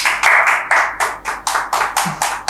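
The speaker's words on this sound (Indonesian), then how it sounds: "Tepuk tangan dulu dong semuanya." A small podcast audience claps to welcome a guest, Ibu Menik, with a steady series of sharp, close, unison hand claps repeating roughly every quarter second.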